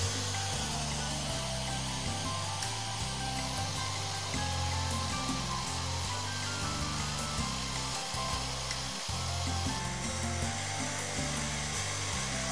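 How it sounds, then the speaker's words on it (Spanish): A power drill with a 10 mm wood bit bores holes in wood, giving a continuous close whirring and grinding with slight load changes throughout. "haremos los orificios en los puntos que hemos marcado con una broca para madera de 10 milímetros de grosor"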